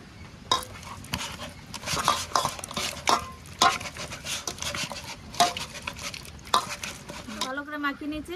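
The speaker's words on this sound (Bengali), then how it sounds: "আর একটু কাঁচা সরষের তেল দিয়ে মাখিয়ে নেব" Fish pieces being mixed by hand with turmeric and raw mustard oil for a curd katla curry, giving repeated soft, wet squelching and clinking sounds at close range with no talk.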